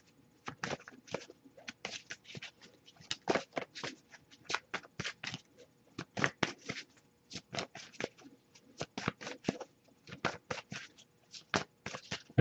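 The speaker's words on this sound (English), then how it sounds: "I'll shuffle a little bit longer" Tarot cards shuffled by hand, a steady run of crisp, close riffling bursts in quick uneven rhythm, heard alone with no talk.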